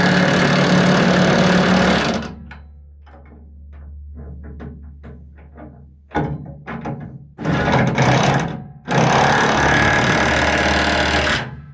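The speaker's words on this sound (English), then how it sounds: "And then we'll take the impact wrench, 15/16 socket," Impact wrench with a 15/16 socket tightening knife bolts on a TMR feed mixer: a motor hum first, then short bursts of rapid hammering, and finally several loud sustained rattling runs up close, with no talk.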